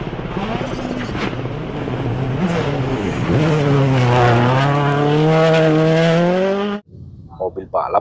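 A red toy race car makes a loud, sustained engine-like whine that rises in pitch for several seconds, then cuts off abruptly, followed by brief quiet sounds.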